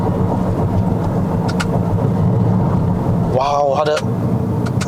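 A Toyota Corolla Sport 1.2T engine in sport mode, a loud steady drone that swells into a brief rising rev blip on a downshift from 3000 rpm, with someone talking over it.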